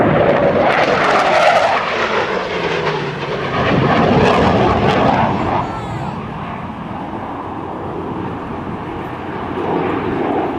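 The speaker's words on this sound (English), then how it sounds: "Here, ladies and gentlemen, is your Hornet carrier break." An F/A-18C Hornet jet roars through a carrier break at an airshow at NAS Oceana, a loud continuous engine rush with a shifting, sweeping pitch as it passes and banks away.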